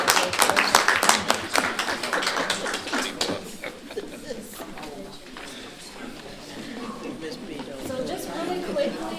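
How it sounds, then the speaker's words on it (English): Clapping from the audience at a reparations commission meeting, loud and scattered at first, then thinning out as people begin talking over the fading applause. "Let's give them a round of applause."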